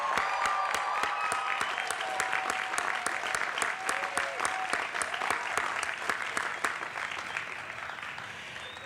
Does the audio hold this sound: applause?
yes